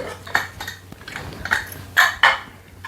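A spoon scraping and knocking as precooked rice is mixed into a pot taken off the stove, giving a few soft scrapes and several sharper clinks close by, with no talk.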